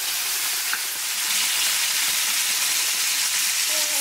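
Chicken pieces frying in a pan on a stove over medium heat, giving a steady, loud, close sizzle with fine crackling throughout and no voices.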